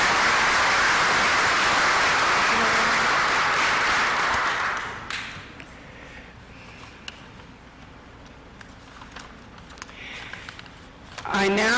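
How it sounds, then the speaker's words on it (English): Applause at a civic association annual meeting, a steady wash of clapping from a room of people that fades out halfway through, followed by quiet room noise. "Please join me in another round of applause"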